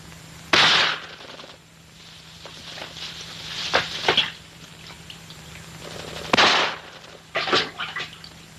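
Sharp gunshots ring out in a few separate reports, loud and close, each followed by a brief decay, with a low steady hum underneath and no speech.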